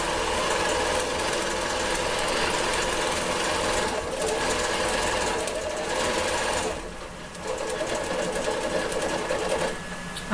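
A Bernina Q-Matic long-arm quilting machine stitches at its fastest speed, giving a fast, even mechanical whirr and rapid needle chatter that runs nearly unbroken, close and steady, with one brief dip partway through.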